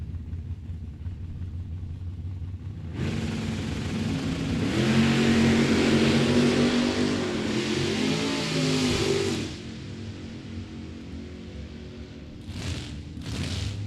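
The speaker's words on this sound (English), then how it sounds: "Camaro and Camaro, early model, late model." Early and late model Chevrolet Camaro drag cars at a drag strip roar through a pass. The engine noise swells for several seconds, peaks, then drops away into distant background rumble.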